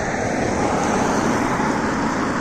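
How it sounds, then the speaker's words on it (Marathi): Steady road traffic noise from cars passing along a two-lane road in Ireland, a continuous broadband rush at moderate loudness with no distinct individual pass-bys and no speech. "गाड्या येताना जाताना दिसत आहेत"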